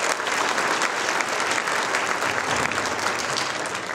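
A school fall concert audience applauds the tenor and bass choir singers, with dense, even clapping held at a steady level for the whole stretch and nothing else heard.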